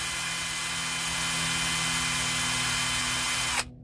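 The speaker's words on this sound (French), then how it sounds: "Petite perceuse sans fil, ça va très bien." A small cordless drill runs continuously with a steady whirring whine, close and loud, cutting off abruptly near the end.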